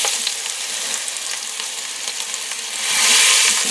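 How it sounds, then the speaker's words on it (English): Meat searing in oil inside an Instant Pot, a loud continuous close sizzle that swells briefly toward the end. "And we're going to sear it on all sides."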